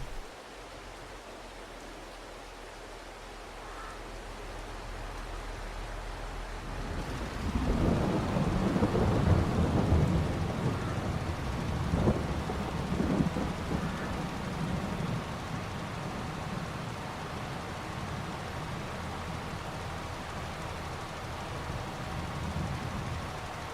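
Rain and a thunderstorm in Farming Simulator 22 during autumn rains: a steady hiss of rainfall, then a loud rolling thunder rumble swelling in and slowly fading under continuing rain.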